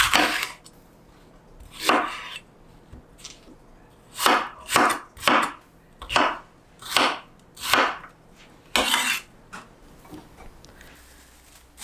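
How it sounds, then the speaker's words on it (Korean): Knife chopping bell pepper into bite-size pieces on a cutting board, about a dozen crisp, close, irregularly spaced knocks in short bursts, with quiet gaps between cuts. "파프리카도 먹기 좋은 크기로 잘라요."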